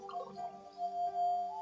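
A home water filter drains its waste water with a steady, thin tonal whine and faint trickle, heard briefly and up close.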